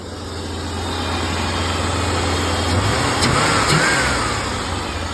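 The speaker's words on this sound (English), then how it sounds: "you can actually snap the throttle" A 1985 Chevy Corvette, parked for 20 years and now running, has its throttle snapped, and a loud close engine rumble swells briefly over a steady idle. The engine then settles back without any talking.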